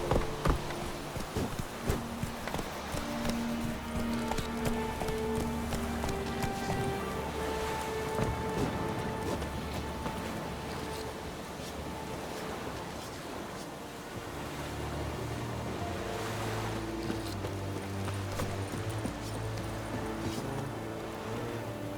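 Roach, a horse in The Witcher 3, gallops with steady rhythmic hoofbeats under a bed of wind, surf-like ambience and soft game music, continuous and moderately quiet with no talking.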